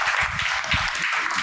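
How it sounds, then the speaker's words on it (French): Applause from a studio audience at a televised talent-show finale, a brief dense wash of clapping with some low murmur beneath it. "Merci beaucoup, on l'applaudit."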